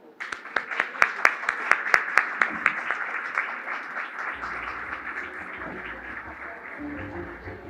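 An audience applauds to welcome the keynote speaker Patrícia Gualingua onto the stage at an environmental leadership conference. Sharp individual claps ring out at first, then the clapping spreads into a steady wash that slowly fades, with some rustle and room noise underneath.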